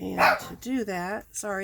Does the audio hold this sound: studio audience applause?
no